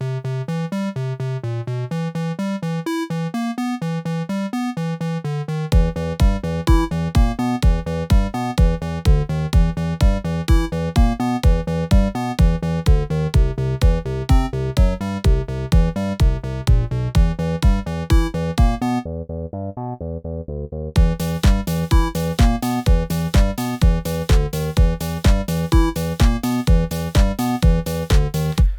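A bright square-wave synth lead with a buzzy, hollow tone plays a fast, bouncy melody from a song over a punchy beat, pausing briefly before resuming.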